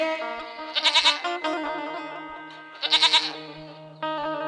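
Goat bleating in a rural village setting, two bursts of wavering, quavering cries separated by a pause, close and clear over a quiet background with faint rhythmic knocks.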